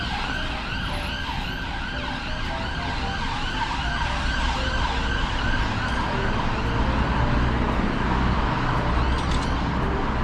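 Emergency vehicle siren wailing along a busy London street, its repeating rising and falling tone steady and fairly loud over a constant rumble of road traffic, with no one speaking.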